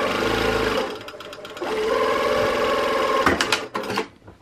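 A sewing machine stitches fabric for an extra-large scrunchie in steady mechanical runs, with a brief pause and a few short clacking bursts as the stitching ends, close and clear with no talking.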